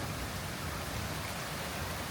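Steady rain falls on a farm yard near a raised-bed garden and a playset, a dense, even hiss with no distinct drops standing out and no voices.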